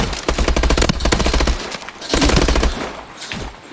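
Rapid bursts of automatic gunfire from the Call of Duty: Advanced Warfare Exo Survival mode, loud and dense, rattling in fast volleys with a short gap before another stream of shots trails off.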